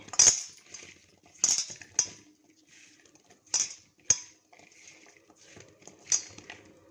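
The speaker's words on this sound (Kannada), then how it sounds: "ಇವಾಗ ಮಿಕ್ಸ್ ಮಾಡ್ತೀನಿ." Chilli powder and salt stirred into a mix in a pot, a spoon clinking sharply against the metal several times in uneven bursts, close and otherwise quiet.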